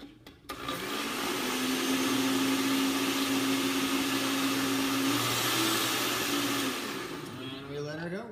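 Countertop blender whirring hot coffee with ghee and pumpkin spices, a loud steady motor whine starting abruptly and running for about six seconds before winding down, with brief talk at the end.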